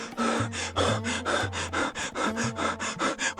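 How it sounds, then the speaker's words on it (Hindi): A man in an animated story pants hard, a rapid rhythmic run of gasping breaths repeating steadily and close up with no talk over it. "कालिया हाँफते हुए घुसता है।"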